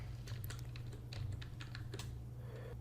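Rapid keystrokes on a computer keyboard, close and clear, as a short word is typed in a quick burst of clicks over a low steady hum.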